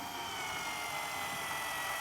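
A power screwdriver drives screws into a camper van kitchen cabinet, giving a continuous high whirring whine at moderate, even volume.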